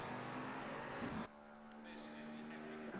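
A race car engine in an Xbox racing game at Silverstone drones steadily at high revs, then drops to a lower steady whine as it shifts, with a faint commentator's voice underneath.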